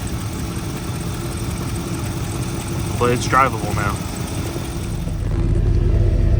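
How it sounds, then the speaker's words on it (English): An 8.1-liter big-block engine idles with a steady low rumble; it has a slight exhaust leak, and its mufflers are fitted on a freshly welded exhaust. Someone talks briefly over the idle, and the rumble grows louder near the end. "there's a slight exhaust leak somewhere up here"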